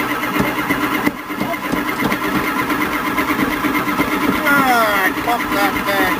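A cold Dodge engine with a new battery cranks and fires up, its rough engine noise running throughout at close range while someone talks over it.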